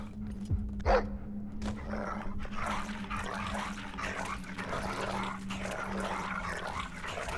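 A video-game dog barks a couple of times near the start over a constant low hum and a wash of watery, rumbling game ambience, with no talking.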